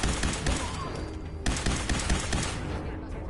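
Rapid gunfire in the Fallout 4 video game, a loud volley of overlapping shots and bursts with a sharp break partway through before the firing resumes, close and dominant, no speech over it.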